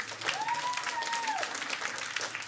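A burst of clapping and cheering from a crowd in Call of Duty: Modern Warfare (2019), steady for a couple of seconds, with a short rising electronic tone over it.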